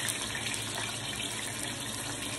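Splash of water into a frying pan with hot oil where ripe plantains are frying, giving a continuous close sizzling hiss that holds steady the whole time, with no voices.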